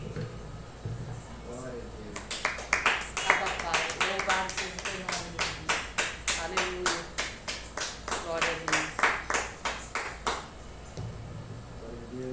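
A church congregation claps in steady rhythmic unison after a Portuguese sermon on grace, a long run of sharp, evenly spaced claps that grows loud and then fades, with faint talk underneath at the start and end.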